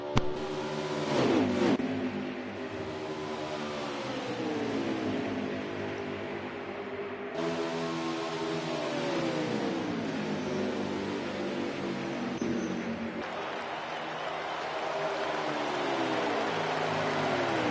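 A pack of race cars in a racing game cup series playoff at Auto Club roars past in a sustained engine drone with rising and falling pitch sweeps as the cars pass, loud and continuous, with no talk.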